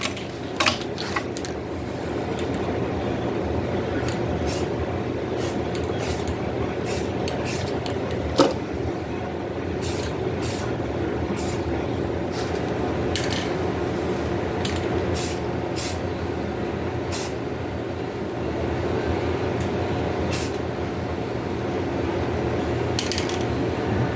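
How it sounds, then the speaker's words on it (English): Aerosol spraying onto the rear end of a Yamaha Virago barn-find motorcycle, a steady close hiss running throughout with repeated short clicks and bursts on top, no talking. "Trying to be as deliberate and direct as I can when I'm spraying this."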